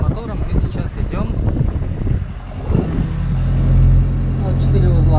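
A sailing yacht running under its engine at about 4 knots, a steady low motor drone with wind buffeting the microphone, while people talk over it in the first half.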